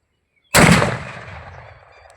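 A single loud firecracker bang during the Uttarayan festival bursts from silence, its rumbling echo fading over the next second and a half.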